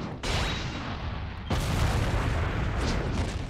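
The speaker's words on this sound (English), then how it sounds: "Probably bigger than a nuclear explosion." A huge explosion in the Naruto Storm 4 fighting game during the Madara versus Hashirama battle, a loud sudden blast at about one and a half seconds that swells into a sustained roaring rumble with crackling debris.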